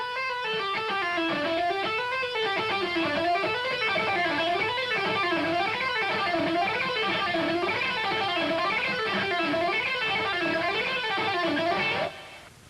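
An electric guitar plays fast, fluid repeating pull-off phrases of rapidly falling and rising notes in a rock style, continuous and steady, ending abruptly.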